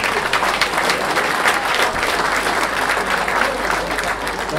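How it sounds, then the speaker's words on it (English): A youth academy award show audience claps for the 2005 athletic team, loud and close, a thick continuous roar of hands with slight swells, with faint voices mixed in beneath. "One round of applause to the 2005 athletic team."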